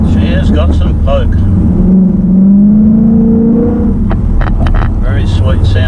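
Lowered Holden VF Commodore in a video game, its exhaust droning and revving steadily and loud throughout, with engine pitch rising and falling under continuous talk.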